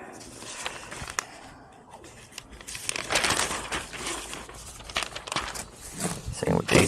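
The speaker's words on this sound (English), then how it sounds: "Okay, pull the paper apart." Paper is pulled apart while gladiolus bulbs are packed into a box for winter storage, giving close crinkling and tearing rustles in bursts as a person talks throughout.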